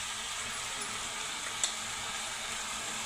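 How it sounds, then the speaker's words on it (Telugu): Tomatoes frying in a pan with salt and chili powder give a faint, steady sizzling hiss throughout, broken by a single small tick partway through. "ఇదిగోండి టమాటాలు వేగిపోయాయి."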